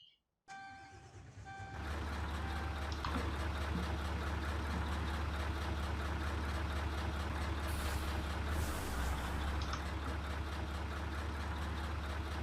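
A long multi-trailer truck in Euro Truck Simulator 2 starts up with a short beep sequence, then settles into a loud, constant deep engine drone with a brief air-brake hiss near the end, no talking.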